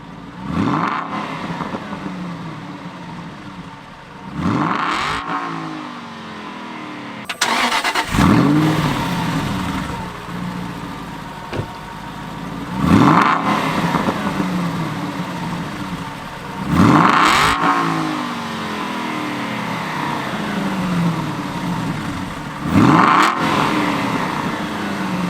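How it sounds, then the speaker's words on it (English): Aston Martin V8 Vantage with its exhaust valves held open, revved hard in repeated bursts, each sharp rise in engine pitch falling away between blips, loud and close with no talk. "It's unleashed so much more noise from the car, and also some pops, bangs and burbles"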